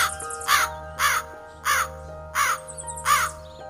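Crow in an animated Hindi children's story cawing five or six times in a steady rhythm, loud, harsh and close, with short pauses between calls over a faint background hum.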